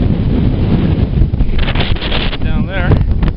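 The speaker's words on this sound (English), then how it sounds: "And the wind is getting strong." Strong gusty wind roars steadily across an exposed ridge on Mount Adams in New Hampshire in winter, a heavy continuous buffeting that fills the whole stretch, with a brief whistling tone near the end.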